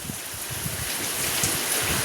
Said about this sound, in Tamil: மழை ஊற்றுது பாருங்க.